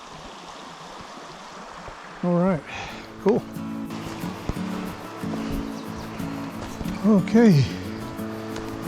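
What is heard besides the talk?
river flowing, Lake Monowai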